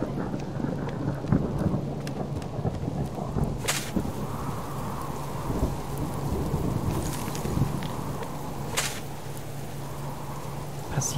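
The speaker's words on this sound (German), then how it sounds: "Das regnet gerade." Steady rain falls with rolling and cracking thunder during a storm in the survival game Subsistence, a dense continuous patter with a few sharp bursts of thunder, and no talking.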